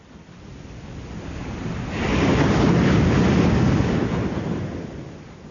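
Seawater and waves surge around a leaking ship in an audio drama, a broad washing roar that swells loudly midway and then slowly ebbs, with a windy hiss and no speech.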